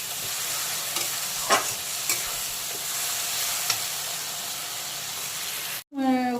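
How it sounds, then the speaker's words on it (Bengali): Chopped onion and tomato sauté in a pan for a Bengali fish curry, a steady close sizzle with occasional stirring scrapes and a brief break near the end. "পেঁয়াজ কুচিটাকে ভালো করে কষিয়ে নেব।"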